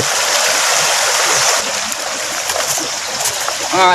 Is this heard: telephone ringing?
no